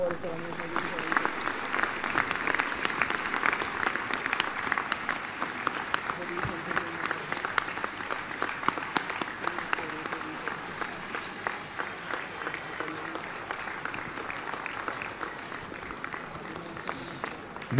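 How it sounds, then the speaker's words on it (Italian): Prolonged applause from an audience gathered at a memorial tribute in Sciacca, a steady crowd of clapping hands at moderate distance lasting well over ten seconds, with faint voices beneath. "Vorrei che proseguisse l'applauso."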